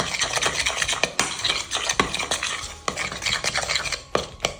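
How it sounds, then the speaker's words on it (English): A utensil stirs vanilla into a creamed butter mixture for snowball cookies, giving quick repeated scraping and clinking strokes against the bowl, close and fairly loud, with no talking. "Now I'm adding 2 teaspoons of vanilla. And stir that in well."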